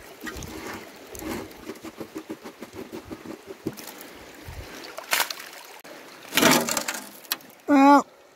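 Water washes gold-bearing alluvial gravel through a sluice, a steady rushing, gurgling flow with rhythmic sloshing pulses and occasional louder splashes, ending with a brief tonal squeal.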